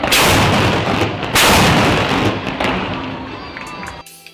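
Loud booming blasts from carbide cannons with rumbling echoes, several heavy bursts in quick succession outdoors along the Kapuas River in Pontianak during an Eid festival, with crowd noise and faint voices underneath.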